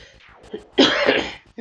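Someone lets out one loud, harsh cough during a Final Fantasy VII playthrough. Quieter voice sounds come just before it and again right after.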